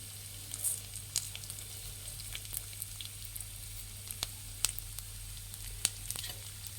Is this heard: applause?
no